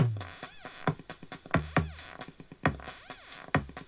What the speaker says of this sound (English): I have drum, so that's the bass drum you hear.